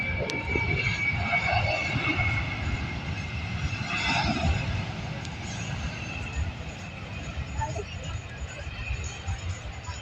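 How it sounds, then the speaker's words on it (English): A Boeing 767 cargo jet arrives at an air show near a cargo-hub airport, its distant engine roar a steady low rumble beneath an announcer's continuous commentary. "we see the arrival here of cargo jet Boeing 767"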